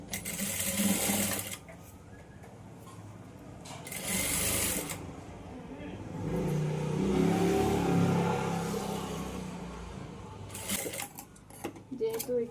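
A sewing machine stitches a blouse seam in loud, fast mechanical bursts that start and stop, with a long whirring run in the middle. A voice talks quietly between the bursts.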